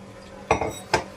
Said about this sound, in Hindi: एक बाउल लेते हैं, उसमें लगाते हैं छन्नी और इसको छान लेते हैं